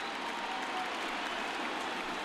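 A stadium crowd of over 38,000 in the MLB The Show 20 baseball game cheers on its feet, a steady, diffuse wash of distant roaring noise with no speech, ending in a brief sharp burst.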